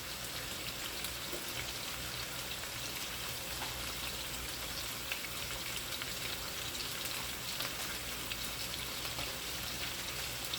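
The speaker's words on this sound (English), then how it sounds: "I'm gonna let them fry on one side to a crispy brown" Beef short ribs frying on one side over medium-high heat in a pan, a steady dense sizzle and crackle with faint pops, constant and fairly quiet throughout.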